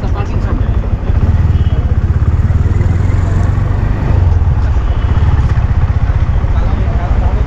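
A motorcycle engine runs steadily and loud from start to finish, a low throbbing rumble close by near a bike parking area at a Dhaka cattle show, with talk mixed in.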